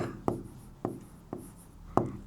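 A pen writing on paper during a geometry lesson on triangles, four sharp separate strokes spaced roughly half a second apart, each followed by a short scratchy tail, close and fairly quiet with no speech.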